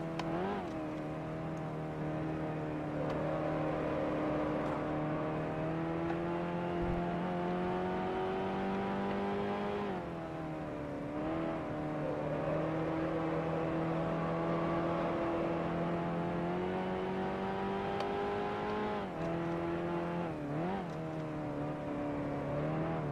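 A 1955 Connaught Type B Grand Prix race car engine in a racing sim drones loud and steady at Brands Hatch, its pitch rising through the gears and dipping sharply on braking around 10 and 20 seconds before climbing again.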